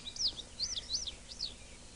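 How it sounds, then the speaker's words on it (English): Four short, high chirping bird calls, evenly spaced, repeating over a faint steady background hiss. "A bird makes a high sound sitting in a tree."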